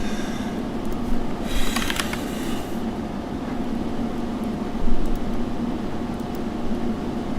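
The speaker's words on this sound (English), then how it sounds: "I had to turn on my air conditioner." A home air conditioner runs with a constant broadband whooshing hum, fairly loud and steady throughout, with a brief brighter swell early on.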